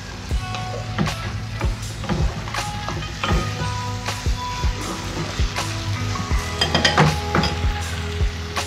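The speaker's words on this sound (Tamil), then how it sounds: "ஒரு சின்ன டீஸ்பூன் விட்டுக்கிறேன் கடுகு, கால் ஸ்பூன் கடுகு போடுறேன்" A quarter spoon of mustard seeds sizzles in a little hot oil while tempering for onion rasam, a steady frying hiss broken by frequent sharp pops and light clinks.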